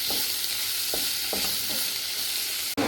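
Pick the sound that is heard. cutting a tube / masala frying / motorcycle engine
masala frying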